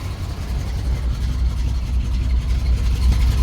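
A 1977 Dodge Adventurer D150 pickup's 440 big block V8 runs steadily, a loud, deep, continuous rumble close by with no voices over it.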